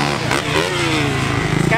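Old Kawasaki motorcycle engine running close by at a campout, a brief steady burbling idle with a slight rise in revs, under no speech.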